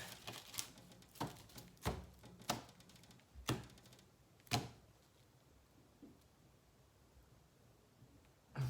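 A deck of oracle cards is cut and handled, giving a run of sharp, crisp taps and snaps at an irregular pace, close and fairly quiet, before a stretch of near silence.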